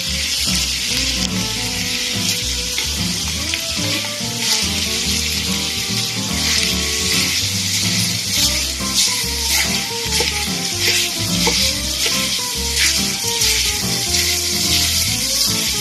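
Sausage sizzles steadily in a hot pan with onion and garlic for a lasagna, a continuous close frying hiss with occasional stirring scrapes and clinks, no voices.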